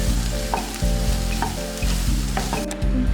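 Pizza filling sautés in a pan with a continuous close sizzle. Periodic scraping strokes of stirring break it up in a steady rhythm, and no voices are heard.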